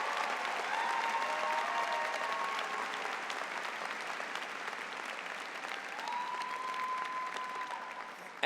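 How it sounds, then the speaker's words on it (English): Steady, dense applause from a commencement audience fills the whole stretch, with a few faint whistles or cheers rising over the clapping near the start and again toward the end. "would you please give a warm round of applause for your village?"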